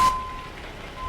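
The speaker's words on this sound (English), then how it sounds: "you can also hear the backup beeper sounds different" Truck backup beeper in American Truck Simulator gives a single short electronic beep at the start, followed by low engine rumble.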